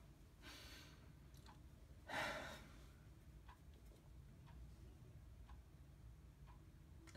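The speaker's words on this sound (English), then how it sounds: "if you hear my clock ticking in the background, that is just my alarm clock in the background" An alarm clock ticks faintly in a quiet room, a soft regular tick roughly every second, with a louder breath or rustle partway through and low background hiss.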